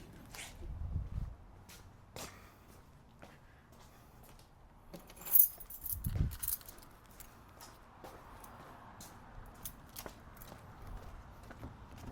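The keys to a 2026 Ram truck jangle in scattered clicks and rattles, with footsteps and thumps between, fairly quiet and close.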